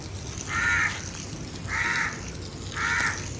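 Crows caw three times around a home yard, evenly spaced harsh calls standing out clearly over a steady outdoor background hiss.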